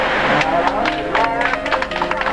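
A crowd of Rwandans gathered outdoors claps in dense, steady applause that carries on at a loud level throughout.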